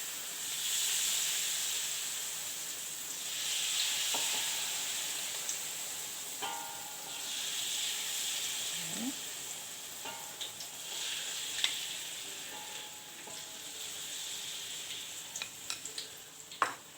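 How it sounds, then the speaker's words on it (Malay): Pineapple fritters for a Thai-style crispy dish deep-fry in hot oil, giving a steady soft sizzle and hiss with occasional louder crackles and pops near the end. "ini bahan yang kita buat tadi kita nak goreng"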